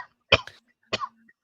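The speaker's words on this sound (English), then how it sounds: "just choked on his coffee" A man coughs twice in a quick choking fit after a sip of coffee, the bursts close and abrupt with a short gap between them.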